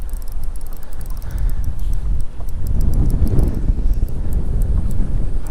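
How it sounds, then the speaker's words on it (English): Wind buffets a microphone at the beach, a loud, continuous low rumble with rough gusting flutter, up close and steady throughout with no voices. "how's that wind? Can't get away from it at the moment."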